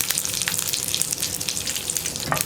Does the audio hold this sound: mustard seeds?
yes